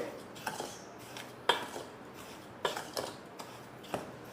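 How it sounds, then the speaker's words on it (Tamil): A spoon stirring semolina, maida and sugar together in a pan: a series of light metallic scrapes and clinks at irregular intervals, close by and fairly quiet, with no voices. "கிளறி விட்டுக்கலாம் நல்லா கிளறிக்கங்க அந்த ரவை மைதா சீனி எல்லாம் ஒன்றோட ஒன்று மிக்ஸ் ஆகணும்"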